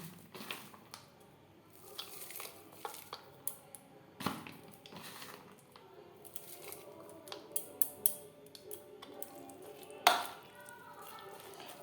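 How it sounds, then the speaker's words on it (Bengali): Chopped onion is worked by hand into spiced prawns, giving quiet, close squishing and patting sounds with irregular small clicks and rustles. "পেঁয়াজ কুচি মাছ ও মশলার সাথে বেশ ভালো করে মিক্সড করে দেবো"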